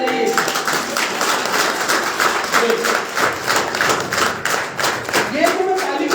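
A seminar audience claps together in a dense, sustained burst of applause that stays loud and steady throughout, with a few voices faintly underneath.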